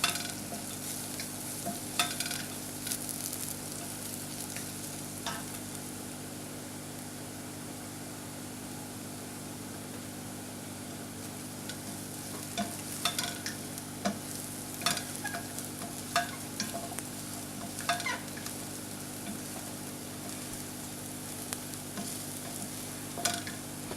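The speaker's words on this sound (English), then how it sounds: "We're going to mix all of it together to get the flavors out first" Fennel seeds and spices frying in a pan, stirred over and over, a quiet, steady sizzle with intermittent scraping clicks and a low constant hum underneath.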